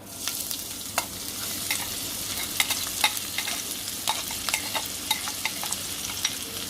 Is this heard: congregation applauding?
no